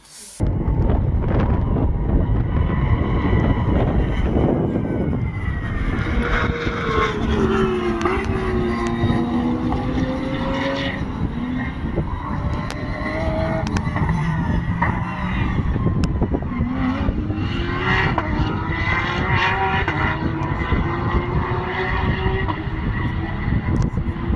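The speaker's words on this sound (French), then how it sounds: "cette fameuse Ferrari là qui faisait un bruit de fou" Loud Ferrari race car engines roar continuously at a Formula 1 Grand Prix, with rising and falling revs as cars pass and shift gears, tires occasionally squealing amid the trackside din.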